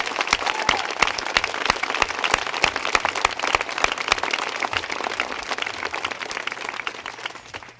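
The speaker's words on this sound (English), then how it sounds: "Mark Larson, deserve a huge round of applause from all of us." Loud, sustained applause from an audience at a Vermont health care bill signing, dense clapping that holds steady for several seconds and thins slightly toward the end.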